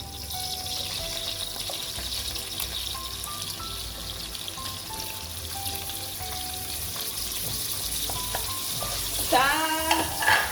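Broccoli with green pepper and grated carrot fries in a pan, a steady sizzle under soft background music, with stirring scrapes and a brief burst of clatter and splashing near the end.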